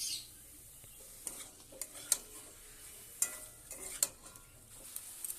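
Spices frying in a pot with a little oil for a home-style meat curry, a soft low sizzle under sharp clinks and scrapes of a spoon stirring against the metal, close and fairly quiet.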